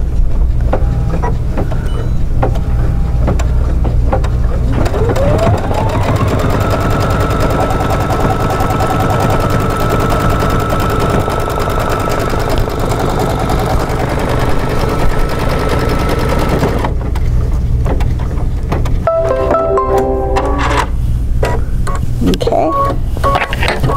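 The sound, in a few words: embroidery sewing machine stitching pillow applique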